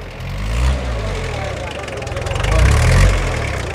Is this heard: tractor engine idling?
yes